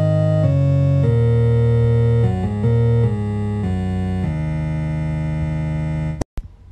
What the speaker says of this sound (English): set the tempo to 150, and then made a bassline that sounds like this